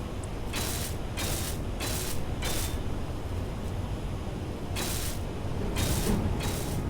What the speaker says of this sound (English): we can weld all of this back up.